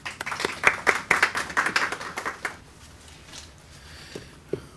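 A short burst of clapping from a poetry-book launch audience, a handful of distinct claps for about two and a half seconds, then fading into quiet room tone with a couple of stray taps.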